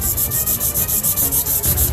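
Fingernail being worked with a nail sander or nail file while shaping a butterfly nail design, giving a steady rhythmic rasping in short repeated strokes, close and fairly loud with no talking.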